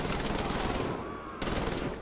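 Rapid heavy cannon fire in the shooter game Wolfenstein: The New Order, a loud continuous burst of rattling shots that briefly drops out before resuming.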